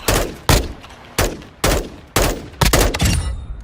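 Gunfire in Call of Duty 2: five or six sharp, loud shots crack at uneven intervals about half a second apart, each trailing a brief echoing decay, with the last two bursts coming close together.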